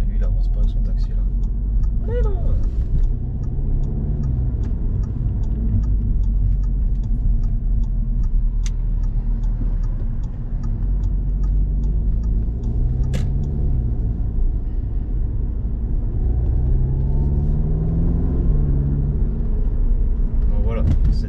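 A car drives through Paris traffic near the Eiffel Tower and Champ de Mars, with a steady loud engine and road rumble throughout while someone talks over it.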